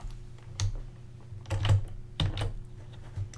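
Computer keyboard typing while coding a tile-swapping puzzle animation, a few close, distinct keystrokes in short clusters over a steady low hum.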